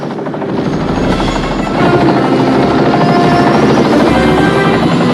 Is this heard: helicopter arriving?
yes